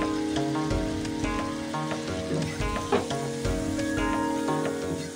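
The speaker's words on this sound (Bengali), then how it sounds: "এখন আমি আরো 2 থেকে 3 মিনিটের মতন এভাবে নারিকেল সহ আরো একটু ভাজা ভাজা করে নিব।" Grated coconut frying in a pan for Baim fish curry, a continuous dense sizzle with intermittent stirring scrapes and clinks, close and steady throughout.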